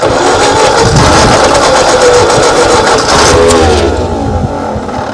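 A 1939 Ford tractor, left in a field for over twenty years and hand-choked, cranking and catching, a loud close engine roar holding steady, then easing off toward the end.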